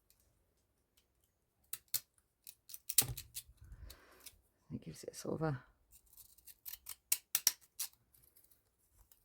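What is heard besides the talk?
scissors cutting paper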